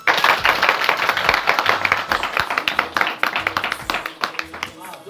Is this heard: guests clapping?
yes